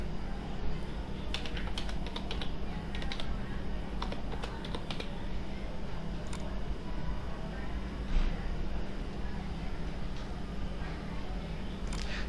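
Someone types a phone number on a computer keyboard while filling in a YouTube channel verification form, producing a steady run of close, light key clicks with brief pauses, over a faint background hum.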